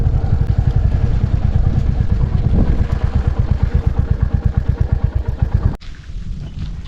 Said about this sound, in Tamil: இங்கே வந்து வண்டி வந்து நிழலில் நிப்பாட்டலாங்க.